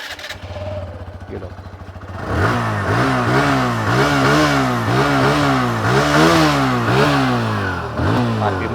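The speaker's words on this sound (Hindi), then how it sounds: "आइए एक एक करके बाइक स्टार्ट कर लेते हैं, इंजन साउंड सुन लेते हैं, एग्जॉस्ट नोट सुन लेते हैं।" A 160cc motorcycle engine idles briefly before being revved repeatedly in rising and falling bursts, loud and close, with a short spoken phrase near the start.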